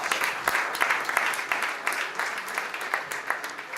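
A live audience at a healthcare and biotech startup competition finals applauds the finalists, a steady, moderately loud wash of many hands clapping with scattered sharper claps throughout.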